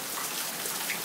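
Heavy rain pouring down in a deluge in Las Vegas, a dense, steady hiss of water drumming on surfaces close by, continuous and loud with no voices.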